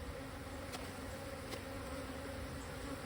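A steady, moderate hum of honey bees at a hive entrance after being shaken off a lid, continuous buzzing with a couple of faint sharp ticks.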